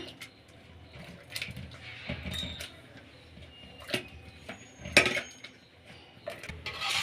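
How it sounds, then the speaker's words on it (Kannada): A masher works through boiled potatoes and peas in a pot, giving soft thuds and sharp metallic clinks against the vessel at irregular intervals, close and fairly quiet. "ಈಗ ಮ್ಯಾಶರಲ್ಲಿ ನುಣ್ಣಗೆ ಆಲೂಗಡ್ಡೆನ ಮ್ಯಾಶ್ ಮಾಡ್ಕೊಳ್ಳೋಣ"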